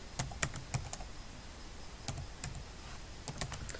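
Typing on a computer keyboard, with bursts of quick key clicks separated by short pauses, close and moderately loud, and no talking.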